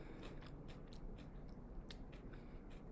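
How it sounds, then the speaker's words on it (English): Someone takes a small bite of an unfamiliar crunchy food and chews, a close, quiet run of crisp crackling crunches repeating irregularly, with no talking. "Okay, so I'm going to take a little bite."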